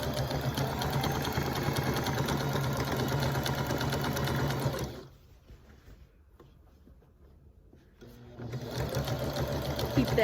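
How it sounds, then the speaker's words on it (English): A sewing machine stitches down quilt binding with a loud, steady motor whir and rapid needle chatter. It stops for about three seconds partway through, then starts running again. "I'm going to sew this until I get close to the edge"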